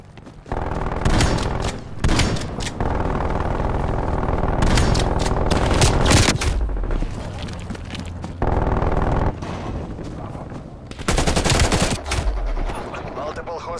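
Sentry turrets firing in the shooter game Call of Duty: Black Ops Cold War, loud bursts of rapid automatic gunfire broken by short pauses, with game voice announcements mixed in.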